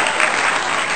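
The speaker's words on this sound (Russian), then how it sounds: "Аплодисменты!" Dense, loud applause from an audience greeting winners of a children's Lego contest, a continuous burst of many hands clapping.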